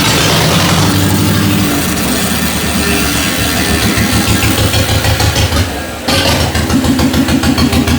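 Tractor engine firing up after a starter repair, loud from the start, then settling into a steady rhythmic chugging idle with one brief dip near the end.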